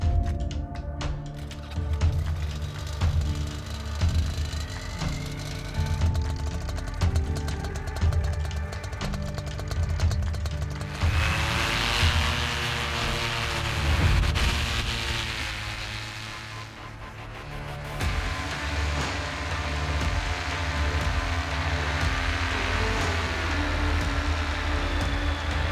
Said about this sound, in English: I'm gonna get this trike started up and let's start packing a runway